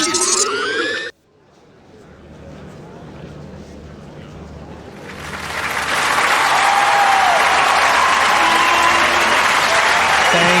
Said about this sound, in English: I do love hearing that applause